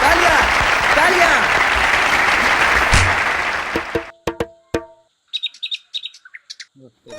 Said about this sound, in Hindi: तालियां तालियां तालियां तालियां तालियां तालियां